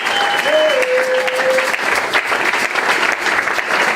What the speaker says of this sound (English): Let's just clap our hands.